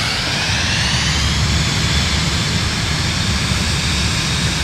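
Cirrus Vision Jet G2 engine in Microsoft Flight Simulator spooling up, a steady loud jet roar with a rising whine, continuous and close, no talk.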